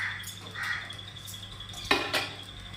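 A spatula flips a dosa on a pan, heard as faint light metallic scrapes and clinks, with one sharper scrape near the end over a quiet background.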